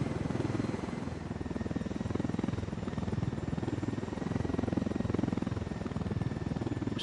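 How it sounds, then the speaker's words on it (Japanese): A transport helicopter in Ghost Recon Wildlands drones steadily with a constant rotor chop and engine whine, loud and close throughout with no talk over it. "輸送ヘリを奪って反乱軍に協力する。"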